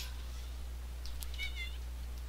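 A cat meows a few times in the video game Minecraft, faint, high and brief, over a steady low background hum with no talking.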